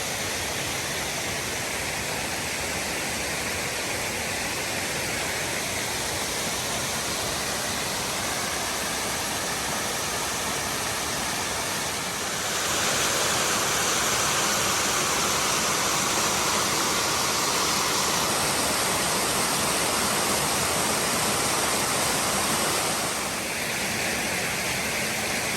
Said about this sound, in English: the water runs off and then keeps going down there